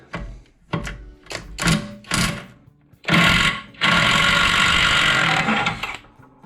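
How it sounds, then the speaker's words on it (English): An impact wrench loosening a tight nut on a Triumph TR7, several short loud rattling bursts followed by a longer sustained hammering run, close up. "So I'm gonna try the impact on it."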